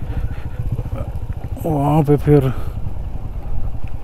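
A motorcycle idles nearby with a steady low throb as someone talks over it briefly; the engine sound continues underneath throughout.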